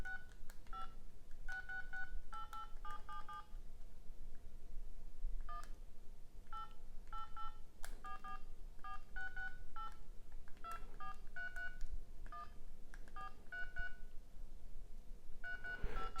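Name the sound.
Panasonic GD90 mobile phone keypad beeps while typing SMS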